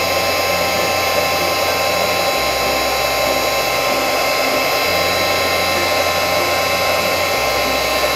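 A handheld embossing heat tool blows a constant loud whirring hum while heating an embossed card coated in wet glycerin, running close and unbroken, its pitch shifting slightly as it is moved, with no voices.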